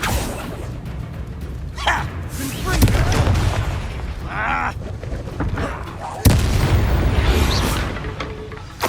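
A Confringo fire spell explodes in Hogwarts Legacy combat, with booming blasts and bursts amid battle noise, a sharp impact near the middle, and voices shouting over the fight.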